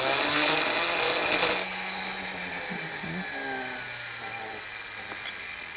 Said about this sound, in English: And then just drill straight through the holes here.